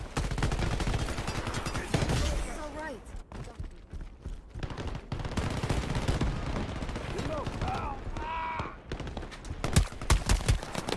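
Gunfire in the online shooter Shatterline during a PvP match: dense, rapid shots and clattering bursts running throughout at steady loudness, with brief tonal game effects layered in.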